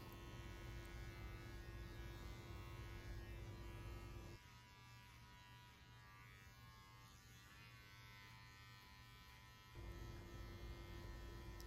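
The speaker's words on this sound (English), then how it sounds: "We are using the Wahl Senior cordless." Wahl Senior cordless hair clipper buzzing steadily during a skin fade haircut, a close, continuous electric drone that shifts to a lighter pitch for several seconds mid-pass and then returns to its fuller hum.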